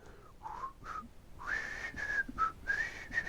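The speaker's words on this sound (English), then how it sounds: "Like that, I'm whistling. It's like quietly whistling." A person whistles quietly and alone, a short meandering tune of sliding notes with brief pauses between phrases.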